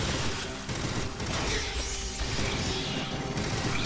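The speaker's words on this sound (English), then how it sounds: "it sounded like my pulse rifle, but, like, glitched" Glitched pulse rifle fire in the sci-fi shooter Aliens: Fireteam Elite, a dense, continuous mechanical rattle with crackling bursts that holds steady, loud and close, for the whole stretch.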